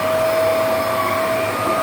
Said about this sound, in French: vous avez juste à laisser l'aspirateur partir et à aspirer tout doucement votre sol